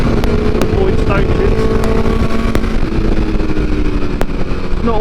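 A 2022 BMW S1000R sport motorcycle on the move gives a loud, steady engine roar close to the rider, with heavy wind rush and a few short clicks over the top.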